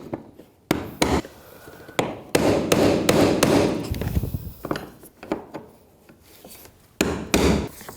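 A hammer drives a brass punch against the fuel pump lock ring of a GMC Acadia, producing a series of sharp, close metallic taps in irregular bursts with some scraping in between.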